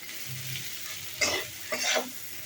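Onion and turmeric are stirred in a frying pan over a low sizzle, with two clear scraping strokes of the spoon against the pan in the middle.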